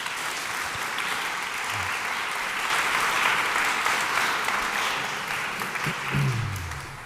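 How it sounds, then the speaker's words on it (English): An audience applauds to welcome guests at a talk on China and the world order, steady dense clapping filling the room for about seven seconds, with a few low murmurs near the end. "So now give a warm applause for our guests, Jue Wang and Eelco Bos van Roosendaal."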